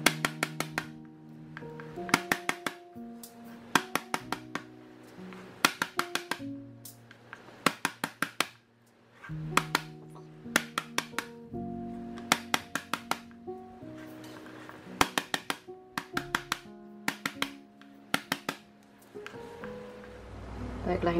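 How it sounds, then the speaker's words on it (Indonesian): Meat being pounded flat for dendeng balado, sharp repeated thuds in quick bursts of several blows, close and loud, with short pauses between groups. "Okay, ini dagingnya lagi saya gepuin."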